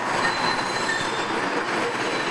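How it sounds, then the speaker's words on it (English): A Baltimore subway car braking to a halt, a loud continuous rumble with a high steady wheel squeal running throughout, close by and with no talk. "halting sounds of a subway car coming to a stop won't be heard anytime soon"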